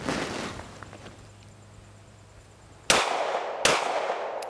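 A Stoeger STR 9S Combat pistol fires two sharp, loud shots close by, spaced under a second apart, each with a quick echoing tail after a quieter stretch of faint outdoor noise.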